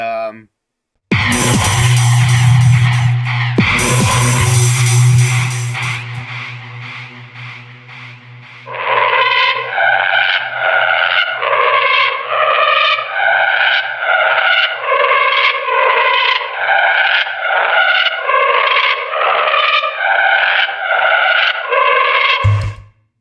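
A harsh synth with reverb, delay and added gain opens with loud, noisy, distorted blasts over a droning low tone, then shifts to a rhythmic, pulsing pattern of repeated gritty stabs that runs steadily to the end.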